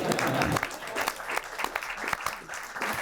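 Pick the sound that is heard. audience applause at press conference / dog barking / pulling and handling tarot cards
audience applause at press conference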